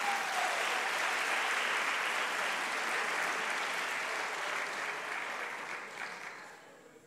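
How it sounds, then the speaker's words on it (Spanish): A crowd claps for a prize winner at a sustainable tourism gathering, broad sustained applause that holds steady and then slowly fades toward the end. "Un aplauso para el caballero"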